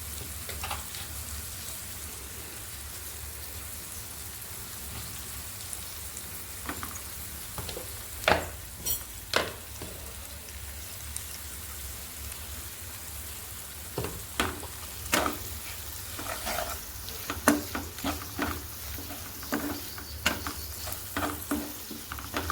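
A spoon scrapes and stirs salt and chili powder through potato curry in a pan, with soft sizzling underneath and scattered sharp clicks and knocks of the utensil against the pan.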